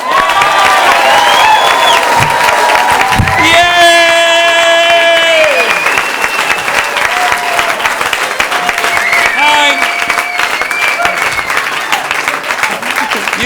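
A comedy club audience in Boston breaks into loud, sustained applause to welcome a stand-up comedian, with cheers and whoops rising over the clapping and a voice speaking over the crowd.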